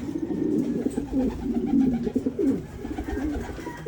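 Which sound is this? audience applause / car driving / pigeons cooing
pigeons cooing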